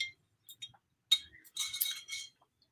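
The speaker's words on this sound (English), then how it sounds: "So take a sip of water in a wine glass." Wine glass holding water clinks lightly a few times as it is lifted and sipped from, thin bright chinks with brief handling rustle in an otherwise quiet room, close by.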